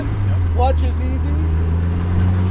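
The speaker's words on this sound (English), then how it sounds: "Oh, that sounds good. And all the good turbo noises." A turbocharged Exomotive Exocet engine hums steadily close by with a low, continuous drone, a brief higher whistle-like turbo note rising early on, while someone talks over it.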